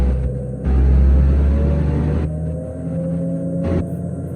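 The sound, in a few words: Trackmobile Titan railcar mover engine driving and upshifting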